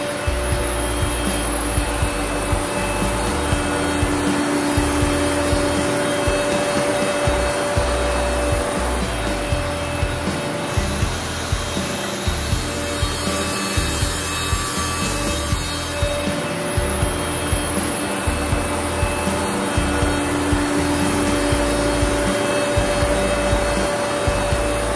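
An Ironwood DSP 2500 dual surface planer runs under load, giving a loud, constant machine roar with a steady high whine and faint rhythmic ticking across the whole stretch.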